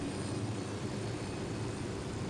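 Steady engine drone of a helicopter in a video game, a continuous low rumble with broadband whoosh held at even level throughout with no talk.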